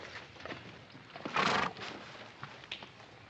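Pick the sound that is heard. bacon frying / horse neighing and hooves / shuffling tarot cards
horse neighing and hooves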